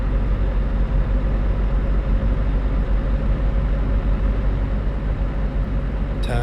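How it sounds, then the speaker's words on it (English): Truck engine in a truck driving video game, a constant low rumbling drone that holds steady and fairly loud throughout, with no talk over it. "I don't want the truck to sound too loud,"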